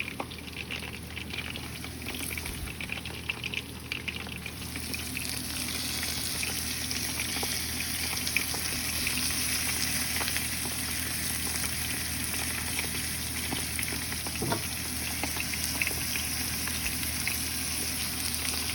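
Peppers and tomatoes fry for lomo saltado, a steady close sizzle and bubbling hiss holding even throughout with a few faint clinks and no talk.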